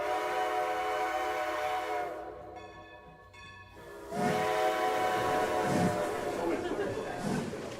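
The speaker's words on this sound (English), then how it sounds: "The locomotive engine hisses, blasting clouds of steam across the station platform." A steam locomotive whistles with a sustained multi-tone blast, pauses briefly, then resumes amid loud, continuous hissing of steam at a station platform, with rhythmic chuffing pulses near the end.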